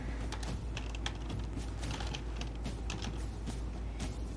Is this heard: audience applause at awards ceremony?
no